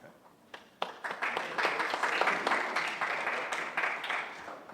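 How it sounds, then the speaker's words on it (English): Mid-presentation applause at an attorney consultation seminar, scattered claps building quickly into a steady moderate round from a smallish audience, heard at some distance. "get some mid-presentation applause"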